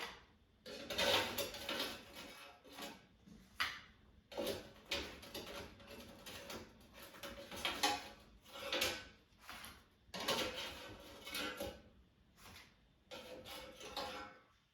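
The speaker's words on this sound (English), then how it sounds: "Now let's take them out of the air fryer." A series of clattering metal and plastic clunks as an air fryer basket holding chicken poppers is pulled out, sliding and knocking in irregular bursts with brief pauses, close by.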